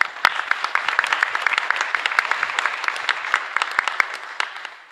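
Congregation applauding during a Mass at the Capilla Santa Teresita chapel in Fernando de la Mora: dense, steady clapping from many hands, loud and close, filling about five seconds with sharp individual claps standing out.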